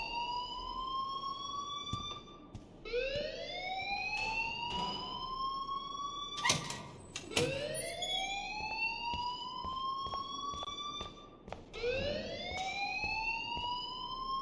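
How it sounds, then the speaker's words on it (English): A fire alarm wailing in the video game Life Is Strange, a loud rising siren sweep repeating every few seconds, cut by sharp clicks and bursts, with no voices. "please turn off that alarm since that's your job"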